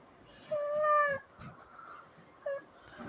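A cat meows twice, a long drawn-out call followed by a short one, fairly close and clear over a low background murmur with no speech.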